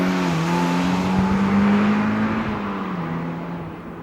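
A Mazda NC Miata fitted with a larger Flowmaster exhaust in place of the factory resonator runs at a steady idle, giving a continuous low, even drone close by with no voices.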